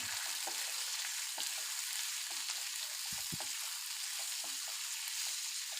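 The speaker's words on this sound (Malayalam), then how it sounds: "സ്ലൈസായി അരിഞ്ഞു വെച്ചിരിക്കുന്ന സവാള ഇട്ട് കൊടുക്കാം" Soft, continuous sizzle of sliced onions frying in a small pan, with occasional faint clinks and scrapes of stirring.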